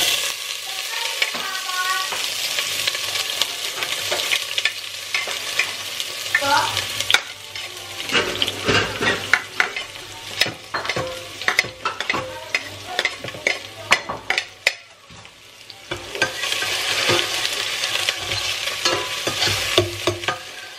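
Coconut mixture being stirred in a hot pan, a continuous sizzle with dense rapid scraping strokes of the spoon against the metal, loud and close throughout, easing briefly before picking up again.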